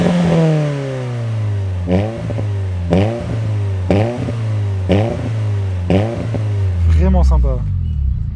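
A Renault Twingo 2 RS exhaust barks through about six quick, evenly spaced rev blips roughly a second apart, then winds down as the revs fall away. The sound is loud and close throughout.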